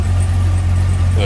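Volvo Penta marine engine on a 43 Tiara boat idling with a steady, low, droning rumble throughout, with a brief faint sound near the end.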